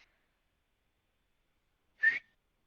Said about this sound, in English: He whistles again, and it stops.